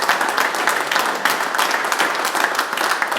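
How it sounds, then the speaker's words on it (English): A crowd at an RC car clinic gives a big, sustained round of applause, many hands clapping densely and evenly the whole way through, with nothing else rising above it. "can we give the TLR guys a big round of applause here"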